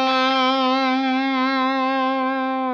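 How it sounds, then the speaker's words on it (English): Electric guitar played with a slide, a quick fretted note sounding behind the slide; one sustained, bright, harmonically rich tone with light effects and reverb, alone and close. "I really like the attack of having that really quick note fretted"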